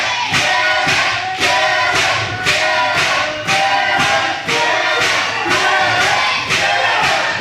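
A wrestling crowd cheers and roars loudly and steadily, swelling in rhythmic pulses of shouting for a favored wrestler after a belly-to-belly suplex.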